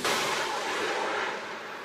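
Military air defense unit firing missiles and anti-aircraft guns to intercept incoming targets during a high-plateau combined brigade exercise, heard as a loud, continuous roaring burst of fire that fades slightly toward the end, with no voices.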